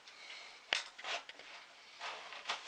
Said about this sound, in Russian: Так аккуратненько весь баклажан прорезаем.